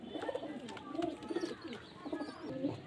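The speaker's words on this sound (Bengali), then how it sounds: "এগুলো কালশিরা ফুলসেরা লাইনের পায়রা, খুব সুন্দর গেট আপ কোয়ালিটি।" Pigeons of the Kalshira Fulsera line coo repeatedly at a pigeon sale in Beldanga, several birds calling close by in soft overlapping rounds throughout.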